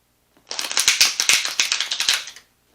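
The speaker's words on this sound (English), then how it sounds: "I noticed in my videos that the shuffling sounds extremely loud." Tarot cards being shuffled, a loud, close burst of rapid riffling clicks lasting about two seconds, with no talk.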